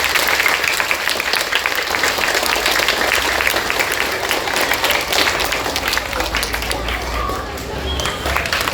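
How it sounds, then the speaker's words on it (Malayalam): Applause from a school audience at a Disability Day observance, a dense steady patter of clapping held through most of the stretch, with crowd murmur and voices mixed in. "എല്ലാവരും ഒരു കയ്യടി കൊടുത്തേ"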